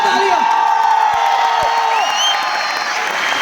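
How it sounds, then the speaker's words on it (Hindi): Audience at an awards ceremony applauds and cheers loudly, a continuous roar of clapping with whoops and shouts close by, over sustained music. "एक बार जोरदार तालियां."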